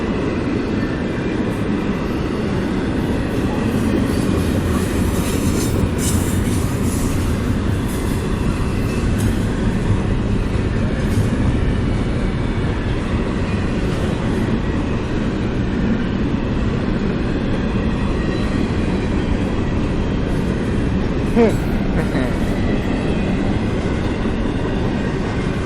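A CSX freight train passes near Folkston, a loud continuous rumble of rolling wagons and clattering wheels sustained throughout, with occasional faint squeals.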